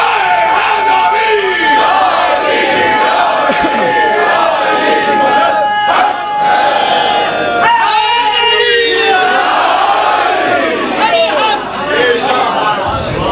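A large crowd at a majlis gathering roars a religious slogan in loud, overlapping shouts, with surging waves of voices and whoops sustained over a long stretch.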